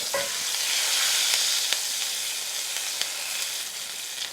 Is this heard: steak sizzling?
yes